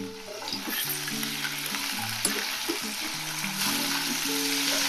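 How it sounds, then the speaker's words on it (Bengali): Potatoes with salt sizzle and fry steadily in a hot pan, with soft scraping stir strokes throughout, close and alone under a constant hiss. "আলুগুলো দিচ্ছি, নুন দিলাম, নুন দিয়ে একটু নাড়াচাড়া দিলাম।"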